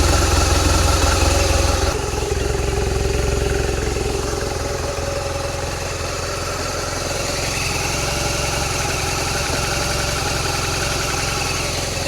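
A 2007 BMW R 1200 R Hexhead motorcycle engine, fresh from a valve clearance adjustment, cranks and fires, then settles into a steady, loud, close idle that runs evenly to the end, with no talking.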